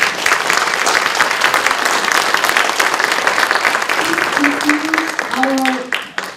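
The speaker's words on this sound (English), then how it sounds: "I think he does deserve another big round of applause." Steady, dense applause from a sizable audience at an anniversary ceremony fills the whole stretch, with a few faint vocal tones near the end before it tapers off.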